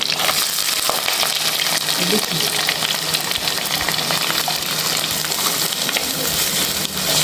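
Onions sautéing in a pan while a dried seer fish curry is being prepared, a steady close sizzle with stirring scrapes running continuously throughout, no talking.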